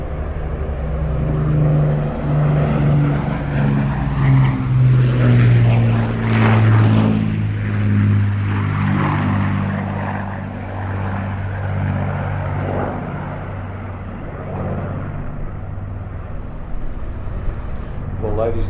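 A World War II propeller aircraft flying past at the Midlands Air Festival, a loud sustained engine drone that swells and fades as it passes, with an announcer talking over it and crowd noise in the background.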